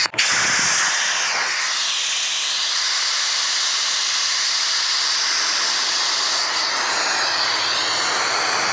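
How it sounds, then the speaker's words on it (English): Loud, steady rush of air hissing out of an inflatable paddleboard valve, beginning with a sharp burst and continuing as a constant close-up whoosh. "you open up the valve here to deflate it. That's always super loud in the beginning."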